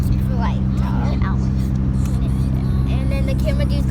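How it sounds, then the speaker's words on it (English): A steady engine drone and road rumble fill the inside of a moving car, loud and continuous, while people talk over it. "You can probably hear the car, probably really loud."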